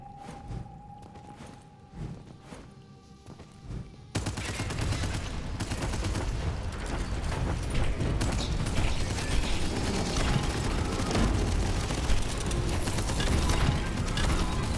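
A chain gun fires in the video game Abyssus: after about four quiet seconds, a loud, dense, continuous stream of rapid shots rattles on without a break, with mechanical clatter mixed in.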